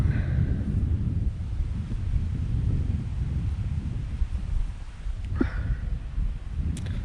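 Strong wind roars steadily and low at a lakeside hammock camp reached by a Gumotex Pea Pod kayak, buffeting the microphone throughout with a brief thin squeak partway through.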